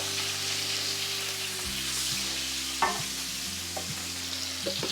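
Beef steak left undisturbed in a hot frying pan, giving a steady hiss of sizzling fat with a low electrical hum underneath and a few faint clicks and taps, no voices.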